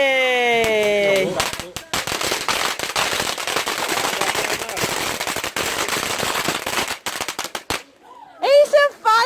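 Bonfire Night firework bursting with a sustained crackling, popping barrage lasting several seconds, loud and close, with voices before and after the bursts.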